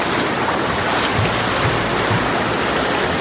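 River water surges in a strong, steady rush as someone wades across a fast monsoon current, loud and close with no pauses.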